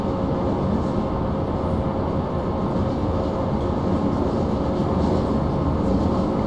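A BR111 locomotive hauls an S6 S-Bahn train from Köln toward Düsseldorf in Train Simulator 2012, producing a steady, loud rolling rumble with a constant motor drone and no pauses or speech.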